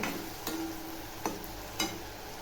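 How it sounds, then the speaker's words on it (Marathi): Green masala paste being sautéed in a pan for egg curry, with a faint steady sizzle and a few soft stirring scrapes about three times. "हिरवं वाटण टाकलं पण चांगलं असं परतून घेते"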